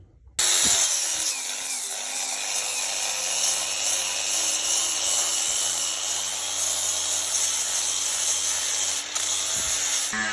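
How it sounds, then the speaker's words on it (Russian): Power tool fitted with a twisted wire brush and abrasive disc stripping rust from metal, a steady loud high-pitched whine with grinding rasp running continuously for about ten seconds, close up, no voices. "Зачищаем витой щеткой и непосредственно коралловым диском и диском челкой."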